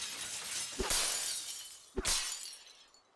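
Glass shatters twice in the DayZ video game, each a sharp crash followed by a bright tinkling spray, close and loud, with no talking over it.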